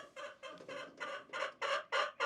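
Hens cluck close by in a run of quick, repeated calls that grow louder and more insistent toward the end; an Ancona hen is among them.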